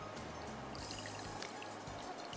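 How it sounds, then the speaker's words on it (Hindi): Half a cup of water is poured into cooking masala, a faint, steady trickle and splash lasting a couple of seconds with no talk over it. "आधा कप पानी इसमें डाल दीजिए"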